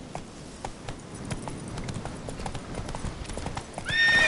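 Roach the horse trotting in The Witcher 3, a brisk, even clip-clop of hooves running steadily throughout, close and clear, with a brief louder burst at the end.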